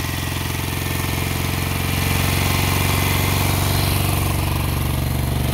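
A 1968 Moto Guzzi V7 700 motorcycle idles slightly high, a steady, loud, close throbbing engine rumble that holds evenly throughout, with no talk.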